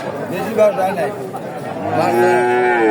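Australian breed cow at a cattle market lowing in two drawn-out moos, the second longer and stronger, amid nearby crowd chatter and voices.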